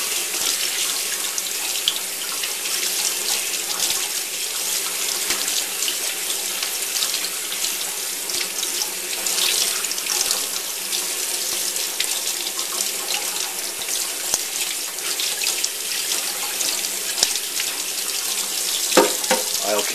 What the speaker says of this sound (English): Very cold running water.